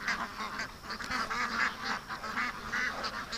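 A wild duck calls outdoors near a small pen, giving a run of repeated honking quacks at moderate distance over a steady outdoor background.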